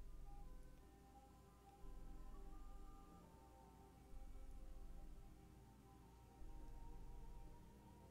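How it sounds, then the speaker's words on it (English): An ice cream truck roams the street outside a house, its tinkling melody faint and distant, rising and falling in repeating phrases over a low, steady background hum. "the ice cream truck is roaming outside my house right now"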